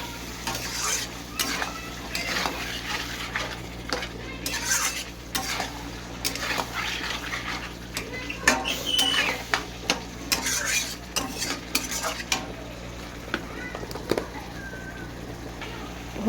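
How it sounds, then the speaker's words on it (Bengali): Spiced mutton sizzles in a pan with chili powder, while a metal spoon stirs and scrapes against it again and again in a soft, close, steady rhythm. "আবার কষে নেবো লঙ্কার গুঁড়ো দিয়ে। এভাবে কষে নেবো।"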